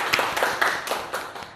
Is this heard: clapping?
yes